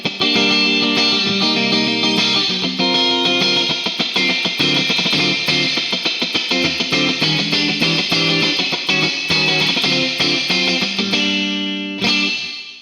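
An electric guitar played through a Boss RV-5 digital reverb pedal in spring reverb mode, bright trebly notes and chords ringing continuously with a splashy wash of reverb, loud and close.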